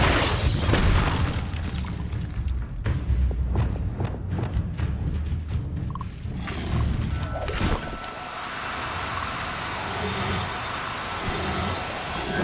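Hogwarts Legacy explosion spells go off as a quick series of loud booms and crashes in the first half, then settle into a quieter rumbling tail with ringing, shimmering debris.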